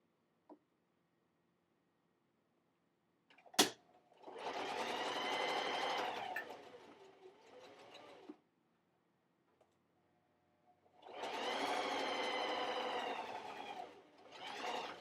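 A sewing machine stitches fabric for a bowl koozie in two long, steady runs of rapid whirring, with a sharp click and quiet pauses between them for pivoting at a corner.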